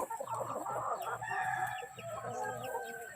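Backyard chickens and chicks, some sick with fowl pox, clucking and peeping close by in a busy, overlapping chorus, with a rooster crowing in the background.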